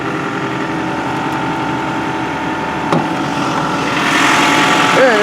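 A 2007 Toyota Camry's 2.4-liter inline-four, 16-valve VVT-i, idles steadily with the hood open, a constant low hum, a brief knock near the middle and a brighter rise toward the end.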